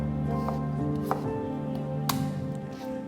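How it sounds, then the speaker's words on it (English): Red onion being roughly chopped on a board, with a few distinct knife taps over a steady background hum. "Half a red onion, roughly chopped."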